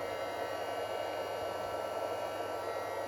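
Steady, rushing blast of hot air from a small embossing heat tool, a constant whirring hiss with a faint motor hum, running without a break.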